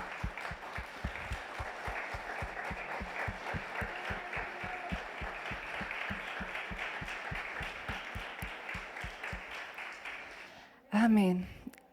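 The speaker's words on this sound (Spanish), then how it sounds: "dale un fuerte aplauso al Señor." Church congregation applauding during a sermon, a long run of rhythmic unison clapping with steady beats for about ten seconds, followed by a brief voice.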